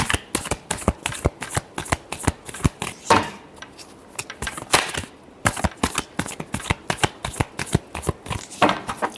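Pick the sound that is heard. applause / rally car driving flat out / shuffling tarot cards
shuffling tarot cards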